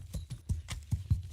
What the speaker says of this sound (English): still a bit weird that that I'm riding on a horse